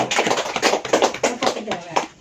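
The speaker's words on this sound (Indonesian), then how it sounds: "Oke, tepuk tangan untuk kedua orang yang sudah maju." Two participants receive applause at a community family-empowerment meeting on stunting prevention: a short patter of clapping from a small indoor group, with a voice talking over it.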